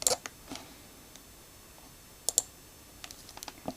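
Computer keyboard arrow keys tapped in a few sparse, light clicks, a double tap near the middle and a quick cluster at the end, close and quiet over a faint background hiss.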